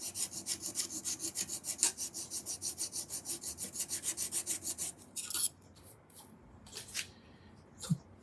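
A thin file plate rasps back and forth to sharpen a pair of tweezers. Fast, even rhythmic strokes run close and clear for about five seconds, then a few scattered scrapes follow.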